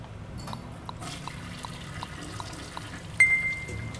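Toilet flushing in a video game: a quiet trickle and scattered drips, then a sudden louder rush of water near the end that tapers off.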